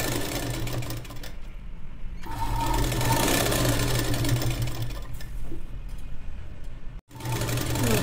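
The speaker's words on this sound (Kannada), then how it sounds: "ಎಡ್ಜನ್ನು ಸ್ಟಿಚ್ ಹಾಕ್ಬಿಡ್ತೀನಿ ನೀಟಾಗಿ." A sewing machine stitches along the edge of a lining for a child's long gown, whirring loudly in bursts with short pauses and a brief stop between runs.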